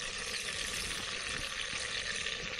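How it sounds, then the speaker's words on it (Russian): Meat frying in a pan at an overnight fishing camp gives a steady, close, dense sizzle and crackle that continues without a break and without talk. "слышу такой вот интересный звук, которым мясо тут уже жарится"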